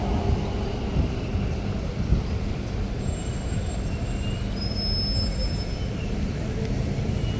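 Green line elevated train rumbles past overhead on the tracks, a steady low roar with faint high wheel squeals, heard from street level with no talking.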